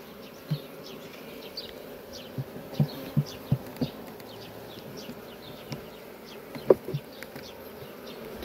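Honey bees buzz around open beehives during a spring inspection, a continuous close hum broken by occasional knocks and taps from the hive frames, and no one speaks.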